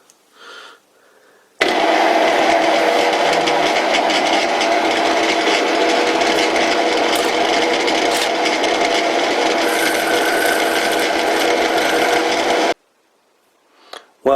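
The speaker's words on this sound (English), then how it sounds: "I got the compound set to cut a slide taper." A small lathe with its compound set at an angle cuts a taper on a tool holder for a Dremel-style mini grinder, giving a steady, loud, rasping whir that starts abruptly, runs about eleven seconds, then stops.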